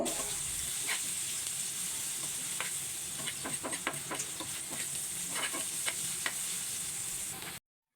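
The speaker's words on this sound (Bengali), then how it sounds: "লবণটা দিয়ে আমি একটু ভালোভাবে নেড়ে চেড়ে পেঁয়াজটা একটু লালচে করে ভেজে নিব" Sliced onions with salt sizzle in a pan as they fry toward reddish brown, with a constant crackle broken by repeated scraping strokes of a stirring utensil; it stops abruptly at the end.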